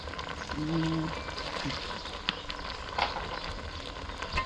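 Food being stir-fried in a pan in a home kitchen in rural Isan, Thailand, with a continuous sizzle, scattered stirring clicks and scrapes, and a brief tonal chirp early on.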